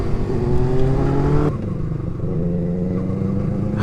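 A Benelli 600i superbike's engine revs loudly and close by, a steady high-pitched drone that drops off abruptly partway through and settles into a lower, rougher idle-like hum.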